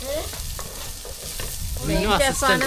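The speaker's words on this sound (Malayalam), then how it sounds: "ഈ ചെറിയുള്ളിയും ഇഞ്ചി വെളുത്തുള്ളി അതേപോലെ തന്നെ പച്ചമുളക് കറിവേപ്പില ഒക്കെ ഇട്ട് നമ്മൾ ഇറക്കി ഇളക്കിക്കൊണ്ടിരിക്കുകയാണ്" Shallots, ginger, garlic, green chilli and curry leaves are stirred and fried in a pan, with a close sizzle and repeated spoon scrapes. A voice briefly rises over the sizzling near the end.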